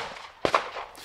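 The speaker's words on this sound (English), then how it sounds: "just trying to pause in between the gunshots going on" Two quick, sharp cracks of distant gunshots close together, heard outdoors over a soft background hiss, with no talking.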